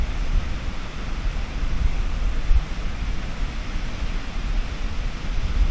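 Ocean waves breaking on a beach where a woman wades into cold water, a continuous broad wash of surf with a low rumbling swell, some wind buffeting the microphone and no voices.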